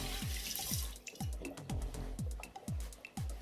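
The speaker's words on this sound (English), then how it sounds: "So I'm going to just wash my hands" Tap water runs and splashes during handwashing in a home kitchen, with irregular drips and knocks repeating steadily, close and fairly loud, no talking.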